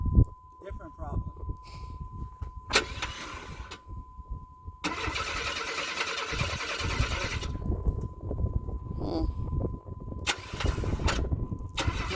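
A Chevrolet Blazer with a bad starter cranks in several uneven bursts, grinding and labouring without catching, with quiet gaps and voices talking between attempts.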